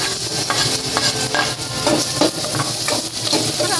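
Onion fries in a pan with a loud, steady sizzle, while rhythmic scraping strokes of stirring come through close by.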